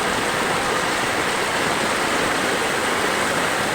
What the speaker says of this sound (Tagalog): Lalo lumalakas yung tubig.